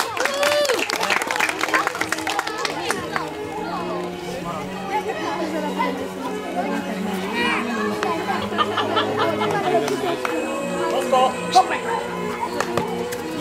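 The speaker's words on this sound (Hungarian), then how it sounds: "Tapsoljuk meg őt is!" A crowd claps and chatters at an outdoor dog show demonstration in a Hungarian village, with steady applause under a babble of voices that continues throughout.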